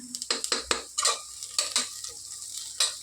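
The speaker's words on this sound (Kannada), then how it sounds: "ಇಲ್ಲಿ ತುಪ್ಪನ ಹಾಕ್ಕೊಂಡು ಸ್ವಲ್ಪ ಈರುಳ್ಳಿನ ಫ್ರೈ ಮಾಡ್ಕೊತಾ ಇದ್ದೀನಿ" Onions fry in ghee for dum biryani while a utensil scrapes and stirs the pan in quick, uneven strokes, each a sharp close scrape over a faint sizzle.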